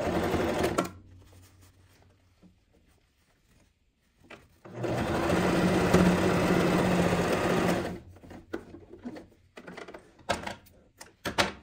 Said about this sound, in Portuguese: pra gente passar só uma costura pra fechar os dois lados